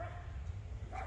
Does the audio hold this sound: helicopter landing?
no